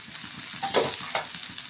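Sandwich filling with amchur powder and salt being stirred and mixed in a pan, a steady close sizzle under scraping spoon strokes with a couple of louder scrapes midway.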